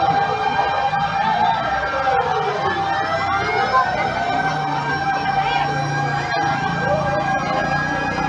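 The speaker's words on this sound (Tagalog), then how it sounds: "Fire truck." A fire truck siren wails continuously at a fire in Tramo 2, San Dionisio, Parañaque City, its rising and falling tone loud and steady over street rumble for about eight seconds.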